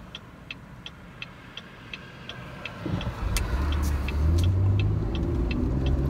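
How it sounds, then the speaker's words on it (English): Road traffic heard from inside a car: a steady ticking indicator sounds over a low hum, then engine and road noise swell and stay loud for the rest of the clip. "I hate traffic."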